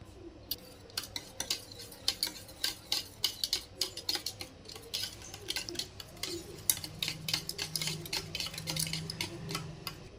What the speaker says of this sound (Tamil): அஞ்சு முட்டை கொஞ்சமாக கொத்துமல்லி ஒரு பச்சை மிளகாய் இதெல்லாம் போட்டு நல்லா பீட் பண்ணிக்கலாம்